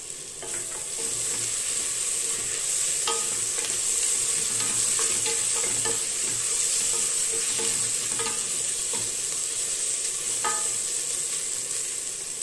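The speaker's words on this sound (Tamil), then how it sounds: "இதில் வந்து நம்ம எடுத்து வச்சிருக்கிற இஞ்சி பூண்டை சேர்த்துக்கலாம்" Ginger-garlic paste and softened onions sizzle steadily in a pan, with a constant bright hiss. A spoon scrapes and stirs at intervals, close and alone with no voices.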